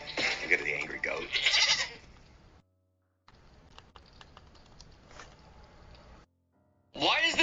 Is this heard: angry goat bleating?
yes